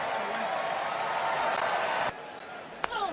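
Wrestling crowd at a televised SmackDown event cheering and applauding in a dense, steady roar that drops sharply partway through, with a brief sharp impact near the end and a commentator's voice underneath.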